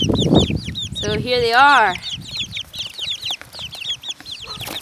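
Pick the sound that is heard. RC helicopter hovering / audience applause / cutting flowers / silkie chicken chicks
silkie chicken chicks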